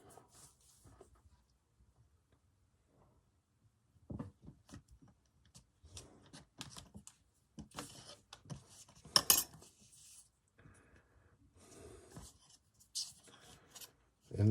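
Polymer clay being cut to a straight edge along a quilt grid ruler, heard as sparse close scraping and tapping strokes with small clicks, quiet overall with brief louder knocks between pauses.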